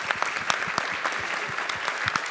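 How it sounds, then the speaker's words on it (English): A conference audience at a closing plenary session bursts into brisk, dense applause, many pairs of hands clapping together at a steady level for a couple of seconds. "So one more applaud for the one next to you for making this happen."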